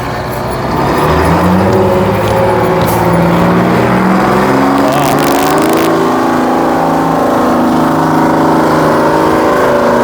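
A steady, loud diesel engine rumble from a food truck built from a classic camper, running continuously close by, with a deep throbbing idle and slight variations in pitch.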